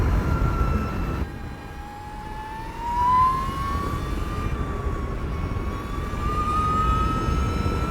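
An Energica Eva Ribelle RS electric motorcycle pulls at full throttle, its loud, close motor whine sweeping up in pitch, dropping briefly, then climbing again over wind and road noise.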